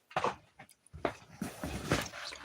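Dogs whimper and pant eagerly while waiting for a small bite of corn, several short bursts of close, restless whining and snuffling spread across a few seconds.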